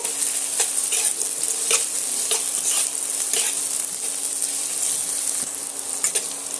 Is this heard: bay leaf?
yes